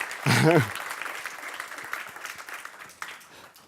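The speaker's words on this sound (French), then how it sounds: "Donc, on va quand même l'applaudir, même s'il n'a pas réussi." Applause from a room audience rises briefly, a voice cuts in, and scattered clapping continues softly under talk.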